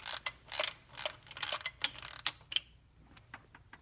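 A ratchet clicks in quick bursts while loosening the cam bolt on an LT1 engine in a 2017 Camaro SS 1LE, close and crisp, then tapering to a few sparse ticks.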